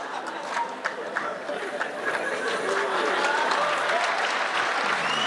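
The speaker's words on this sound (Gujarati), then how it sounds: "પછી તાળીઓ પાડો" An audience at a Gujarati community anniversary cultural program claps loudly and continuously, the applause swelling slightly and holding steady with faint crowd murmur underneath.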